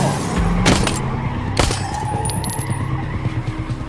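A car pulls away fast with tires skidding and squealing, a loud continuous engine roar with sharp bursts near the start.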